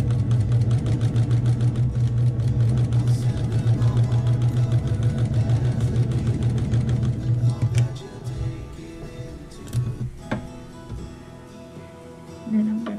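A sewing machine runs steadily, stitching a small seam along the edge of a quilt label, then slows and stops with a few short bursts near the end, heard close up.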